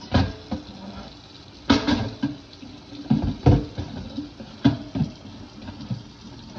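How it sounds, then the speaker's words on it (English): A milk bucket being washed with water and a sponge, its outside scrubbed first: intermittent splashes and sloshing scrubs come in irregular bursts, close by and fairly quiet. "I wash the outside of the bucket really good first."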